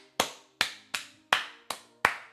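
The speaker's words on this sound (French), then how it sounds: "Les gars, applaudissez Ridvan." Six sharp, close handclaps at a slow, even pace, like one or two people clapping for someone at the 2025 Cannes Film Festival.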